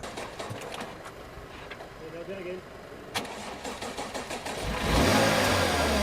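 A crashed BMW M4 with a dead battery cranks and catches on a jump start, then revs up loudly near the end, with background noise and faint voices throughout.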